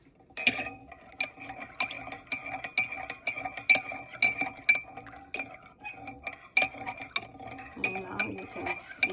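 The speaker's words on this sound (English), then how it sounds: "And now I'm going to add 1 teaspoon of honey and then mix it." A spoon stirs honey into a cup of lavender herbal tea with rapid, bright clinks against the cup that repeat irregularly throughout, close and fairly loud.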